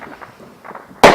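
A small firework bursts with one sharp, loud crack right at the end, after a moment of quiet outdoor background.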